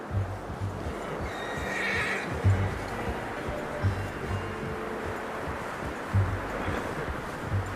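Horse neighing in the Red Dead Redemption 2 video game, a faint whinny rising over a steady low rumble of ambient game sound and occasional thuds, fairly distant.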